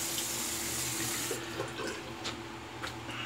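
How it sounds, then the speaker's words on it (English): Tap water runs steadily into a sink while a safety razor is rinsed after a shave with a Merkur 37C slant, a close, continuous splashing flow with a few brief clinks and sputters partway through. "Rinse the razor."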